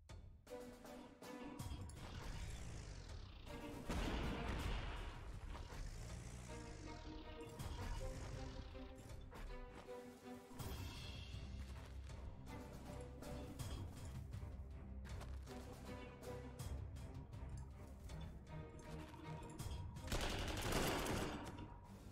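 Units opening fire in Panzer Corps 2 during an assault on Sevastopol: dense, loud volleys of gunfire and bursts in quick succession, sustained throughout with no talk.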